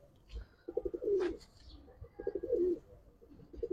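Silver, army and khaki pigeons for sale coo in two low, throaty, rolling bursts, fairly close, with soft background noise between them.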